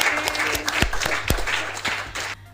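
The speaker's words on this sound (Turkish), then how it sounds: "Oo en kocaman alkış gelsin" Scattered claps and cheering in the Toca Boca video game over a steady electronic hum, with a few sharp individual claps standing out before it fades at the end.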